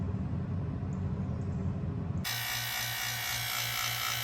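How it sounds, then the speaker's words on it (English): A vacuum pump hooked to the AC system of a 2004 Ford E350 van runs with a low mechanical drone, then shifts abruptly to a brighter, harsher whine with a pulsing hum, close and steady. "hook up the vacuum"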